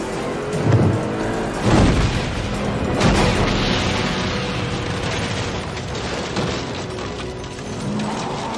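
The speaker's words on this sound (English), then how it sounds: "But adds a gratuitous explosion." A gratuitous explosion in a car chase film scene involving motorcycle cops going off-road: loud booming blasts around two and three seconds with crashing debris and rumbling that slowly fades into a lingering roar.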